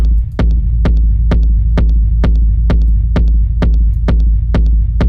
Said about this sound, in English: I use a MIDI bassline with a synth sound.